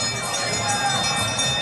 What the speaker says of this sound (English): So, with the bell on board on 18, we hear the bell, and Jason Settle is moving to the front.